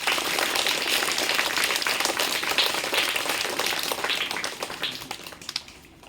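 A group of people at a school prize giving for class 1 results claps together in a soft, steady patter that gradually thins and fades out over a few seconds.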